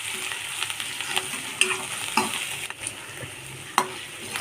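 Ground masala fries in oil in a pan for an aubergine bhaji, with a steady close sizzle and repeated spatula scrapes and taps at an irregular stirring rhythm, and no voices.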